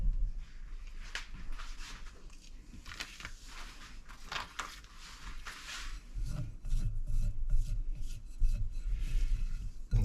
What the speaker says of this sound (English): I'm going to just scrape the sides down.